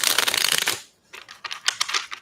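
Tarot cards are shuffled by hand in two bursts: a dense, crisp riffling flutter, a brief pause, then a lighter series of quick card slaps and swishes up close.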